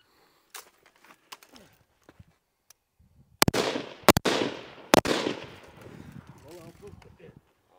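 Rifle shots fired during a timed standing-to-prone shooting drill, a few sharp loud cracks spaced about a second apart, each trailing a long outdoor echo, with people talking faintly between them.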